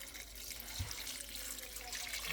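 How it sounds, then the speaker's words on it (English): Six cups of water pour steadily into a cooking pot holding bay leaves for a slow-cooked dinner, a continuous close splashing stream with no talk. "And 6 cups of water."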